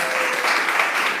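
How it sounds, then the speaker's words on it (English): Audience applause at a tech panel discussion, a brief, steady round of clapping from a crowd heard close and fairly loud. "give her a round of applause"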